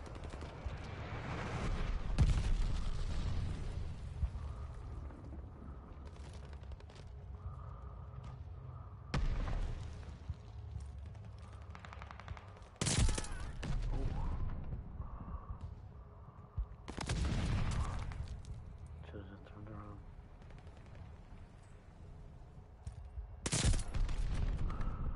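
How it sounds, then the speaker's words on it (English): Glide bomb blasts and gunfire in a multiplayer shooter game: several loud, broadband booms a few seconds apart over continuous rattling gunfire and battlefield noise, with no talk. "Enemy glide bomb incoming."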